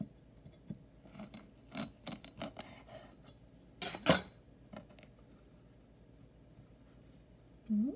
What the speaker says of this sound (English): let's see what happens when I cut it in half